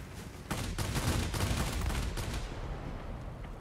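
Aircraft guns fire in dense, sustained bursts at a B-17G bomber in World of Warplanes, with a rapid, rumbling chatter that fades toward the end.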